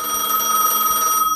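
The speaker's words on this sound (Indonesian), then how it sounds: "Ah, telepon lagi." A telephone rings in the video game Gas Station Simulator, a loud, continuous electronic tone lasting just over a second with no speech.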